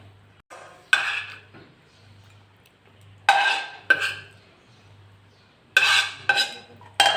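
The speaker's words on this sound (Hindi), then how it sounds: "सारी चीज़ें मैंने मिक्स कर ली हैं, बेसन और सारी वेजिटेबल्स को और चिकन को" Gram flour batter being mixed with vegetables and chicken for Chinese chicken pakora, giving several sharp clinks and scrapes of a utensil against a bowl in separate bursts over a low steady hum.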